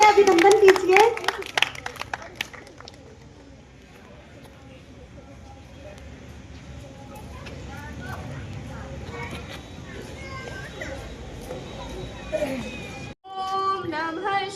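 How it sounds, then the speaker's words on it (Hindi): An audience at a Mahashivratri celebration claps for arriving guests, a brief burst of close applause fading into a long stretch of crowd murmur and soft rustling, with voices chatting throughout. "जोरदार तालियों से हमारे आए हुए अतिथियों का स्वागत कीजिए, अभिनंदन कीजिए"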